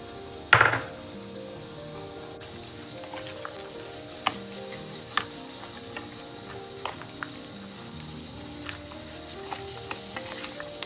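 Hot sesame oil tempered with mustard seeds and urad dal poured over pickle spice powder, a sharp loud hiss at the pour followed by steady close crackling sizzle with scattered pops, no talking.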